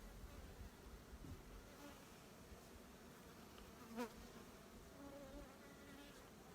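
Honey bees in an open hive, being smoked, buzz steadily in a soft, continuous drone with one brief louder buzz as a bee passes close by.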